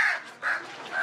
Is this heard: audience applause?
no